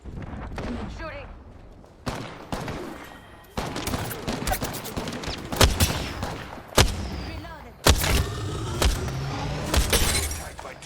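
Rapid gunfire from the video game Apex Legends, including a triple take sniper rifle, with sharp repeated shots, impacts and breaking sounds in bursts over about eleven seconds, with in-game voices heard between the shots.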